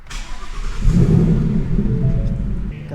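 An Audi R8 GT from 2012 with a V10 engine and carbon ceramic brakes, on a race track, rises into a loud, close rev that holds steady and strong throughout, with no talking.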